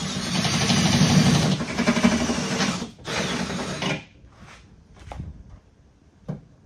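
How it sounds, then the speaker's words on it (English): A power drill with a step bit whines loudly while cutting through van door sheet metal, then cuts out; a few short, quieter bursts of drilling and handling noise follow. "You want to let the step bit do the work."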